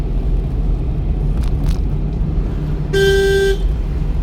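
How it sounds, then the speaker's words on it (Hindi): A single short car horn toot sounds clearly from inside a moving car during a driving lesson, rising over the steady engine and road rumble, with a brief click or knock just before it. "हॉर्न मारना होता है जब कोई आगे से क्रॉस कर रहे होते हैं"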